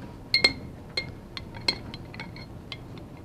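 A spoon scoops seedless strawberry jam from a glass jar, giving a few light clinks and taps against the glass at uneven intervals, close and fairly quiet in a still room.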